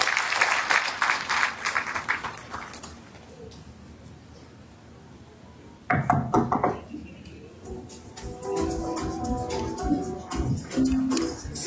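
An audience at a graduation ceremony claps in a brief burst, goes quiet, then breaks into renewed scattered applause mixed with crowd murmur and voices.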